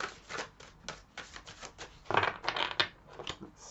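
A deck of tarot cards is shuffled by hand close to the microphone: quick papery riffles and soft slaps in uneven bursts, with a louder flurry near the end.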